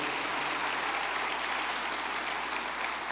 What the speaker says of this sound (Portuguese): Dá um aplauso aí bem forte ao Senhor.